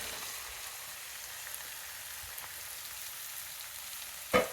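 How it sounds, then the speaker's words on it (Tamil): Four eggs sautéing in a pan for an avarakkai muttai poriyal, a steady soft sizzle and crackle throughout, ending with a single sharp clink of a utensil. "ஆட் பண்ணி இதை நல்லா சாட்டே பண்ணணும்"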